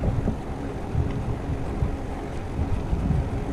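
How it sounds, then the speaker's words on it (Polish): Gusty wind buffets the microphone outdoors on an autumn road lined with orange leaves, a steady low rumble with rising and falling gusts throughout, no voices. "Cholerny wiatr, no. Nie pozwala mi jechać."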